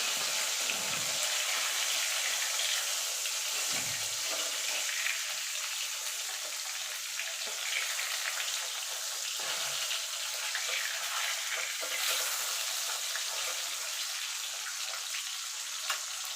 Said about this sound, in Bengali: এক পিট ভাজা হয়ে গেছে এবার মাছগুলোকে আমি উল্টে দেবো